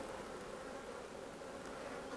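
Honey bees around hives during an inspection make a steady, dense, even hum of many wings, continuous and soft without voices.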